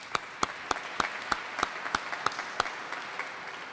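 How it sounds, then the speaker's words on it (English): Quiet, sparse clapping at a launch event, a few distinct hand claps at a steady, even pace over a soft hall background. "how about a round of applause for Trin, if you would?"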